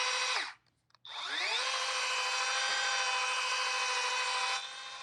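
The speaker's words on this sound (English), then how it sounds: "press the pad against the paint and bring your RPMs up slowly" A rotary buffer with a pad polishes car paint, its motor whine briefly stopping, then spinning back up and holding a steady high-pitched drone that drops slightly at the end.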